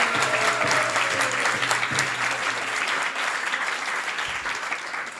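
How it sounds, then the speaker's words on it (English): An audience at a spiritual gathering breaks into loud, sustained applause, many hands clapping close and full, tapering slightly toward the end, with a faint voice underneath. "Give him a big round of applause."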